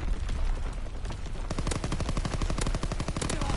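A long, rapid burst of automatic fire in a WW2 video game follows an earlier flurry of shots, with evenly spaced crisp rounds rattling close and loud for about two seconds.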